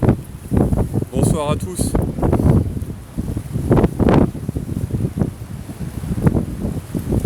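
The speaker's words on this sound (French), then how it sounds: "En tout cas il y a du vent" Gusty wind buffets a microphone outdoors near water, low rumbling bursts that rise and fall under someone talking in French almost throughout.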